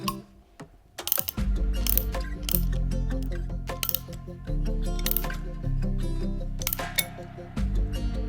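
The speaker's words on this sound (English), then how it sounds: "securing it with a 3/4 inch wrench" Metal wrench tightening a 3/4 inch nut onto a Hi-Lift jack mount on a RAM 2500 Power Wagon, a series of sharp close ratcheting clicks and clinks over a steady low hum.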